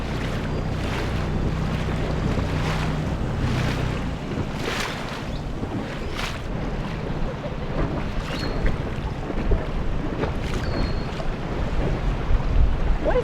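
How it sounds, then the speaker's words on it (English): A small inflatable dinghy motors across open ocean waves, the outboard engine droning steadily under strong wind noise and the slap and rush of water, with a constant, fairly loud churn throughout. "it's time for a dinghy excursion"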